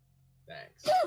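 A single sharp sneeze close to the mic in a quiet room, preceded by a short breathy intake. A brief spoken word overlaps at the end.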